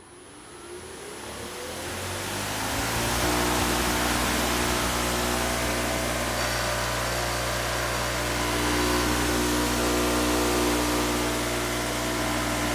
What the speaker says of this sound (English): So from 0, here is how long it takes to wind up.